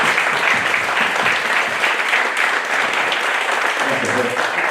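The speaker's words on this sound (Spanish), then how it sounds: "Un aplauso para Silvia." Audience applause for Silvia at a book presentation in Capilla del Monte, dense and steady clapping throughout, with a few voices faintly underneath.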